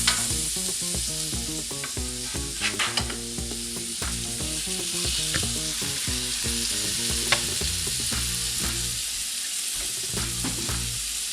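Wahoo seafood burger patties frying in a pan, a steady loud sizzle with crackling and spattering throughout, close and continuous with no talking.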